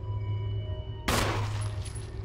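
A gunshot in the Resident Evil video game cracks out as a single sharp loud burst over a steady humming game background, followed by a brief decaying tail.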